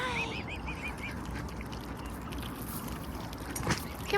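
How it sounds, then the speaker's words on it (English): Ducks recovering from an oil spill give a few quick quacking calls early on, near and moderately loud over a steady wash of background noise at a bird rescue facility. "Come on, duckies."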